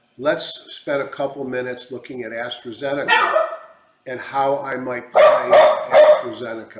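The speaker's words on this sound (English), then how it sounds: "Sorry for the dog." A pet dog barks indoors in short yips and whimpers, mixed under someone talking steadily about stocks, with a louder burst of barking near the end.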